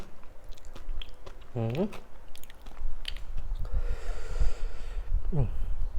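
Crunchy squid in a very spicy seafood papaya salad being chewed close up, with wet bites and crunches, breathing sounds, and brief murmured voice sounds between mouthfuls.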